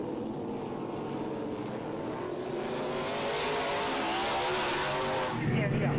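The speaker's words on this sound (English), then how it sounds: "it's a symphony of V8s going by" A V8 race car, a Mustang among them, passes along a circuit straight at Winton during a vintage racing round, a loud sustained engine roar that swells as it goes by, with a voice talking over it.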